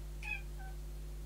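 A sickly tomcat gives a short, soft meow indoors, a single brief call followed by a fainter trailing note over a steady low hum, with no talking.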